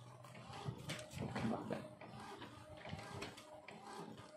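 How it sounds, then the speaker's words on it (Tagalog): A printer runs steadily in a room for several seconds, a continuous mechanical whirring and rattling with some voices faintly underneath. "So ito pala yung printer natin mga idol."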